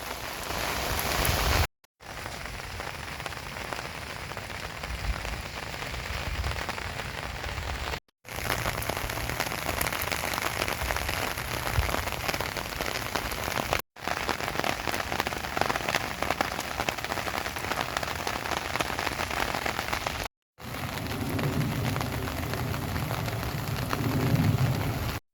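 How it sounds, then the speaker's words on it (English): Steady rain falls in the Arizona desert, a constant dense hiss of drops hitting the ground, close and even throughout, broken only by a few brief cuts. "It's a steady rain."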